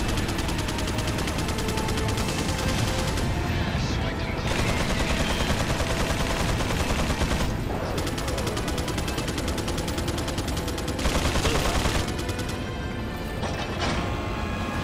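Loud, sustained automatic gunfire from a minigun in Resident Evil 4's final boss fight against Osmund Saddler, rattling almost continuously with brief dips and mechanical clatter throughout.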